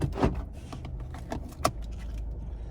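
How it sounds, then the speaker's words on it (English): A 2020 Chevy Sonic Hatchback LT RS key fob with remote start jangles close by in a few light, metallic clinks and rattles over a low, steady in-car hum. "And there's your key fob with remote start."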